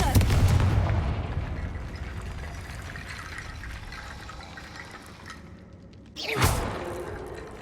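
A Confringo fire spell bursts in Hogwarts Legacy, a loud crackling blast that dies away into a rumbling, watery wash. A second sharp impact hits near the end.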